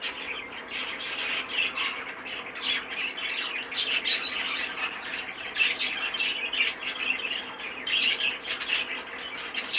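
Caged birds squawk and chirp in rapid, overlapping bursts, loud and close, continuing throughout with no talking.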